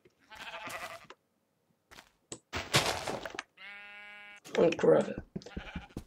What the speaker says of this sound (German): Viele Schafe hier irgendwie. Das ist so eine Schafsherde.